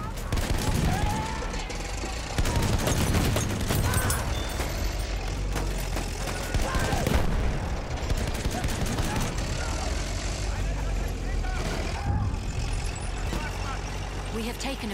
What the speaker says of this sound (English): Feindliches MG.